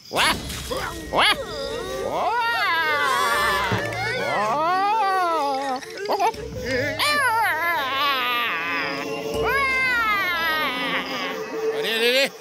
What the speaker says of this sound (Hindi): ऐसी ही रोने की आवाजें आती हैं साहब